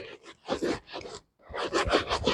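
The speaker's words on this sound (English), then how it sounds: "So let me polish the shoe for clear observations" Brisk rubbing and brushing of a shoe with homemade charcoal shoe polish, two bursts of rasping strokes separated by a short pause, close and fairly loud, with no talking.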